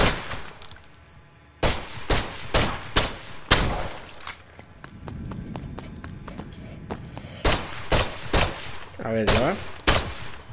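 Repeated gunshots from a weapon in the VR parkour action game STRIDE, loud sharp bursts spaced irregularly with a few tight clusters, alongside footsteps and brief spoken remarks.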